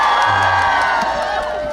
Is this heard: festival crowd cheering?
yes